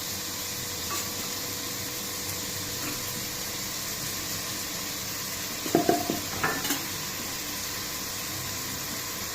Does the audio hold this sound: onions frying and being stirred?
yes